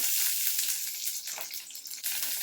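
Shallots, garlic, green chilies and curry leaves frying with mustard seeds, urad dal and cumin in hot oil, a bright crackling sizzle that briefly dips, close and with no voices.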